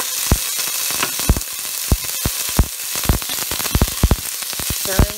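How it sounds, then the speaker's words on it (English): Onions and garlic frying in hot oil in a pan for potato leek soup, a loud close sizzle with frequent sharp crackles and pops spread irregularly across the clip. "Heat about 2 teaspoons of oil in the pan and then add your onions in."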